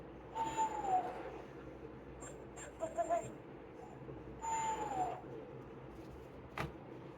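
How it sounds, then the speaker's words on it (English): An owl hoots twice as a sound effect in a read-aloud picture book. Each hoot is a gliding, falling call with a gap between them, set over faint background noise. "owl hoots"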